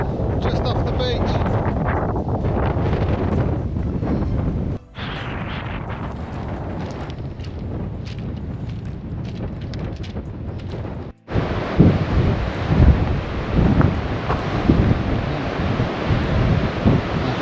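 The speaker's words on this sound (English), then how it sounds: "it's quite windy down here" Strong wind buffets a beach beside St Ninian's Cave on Scotland's south-west coast, a loud continuous roar and rumble with surf mixed in, cut by two brief drop-outs.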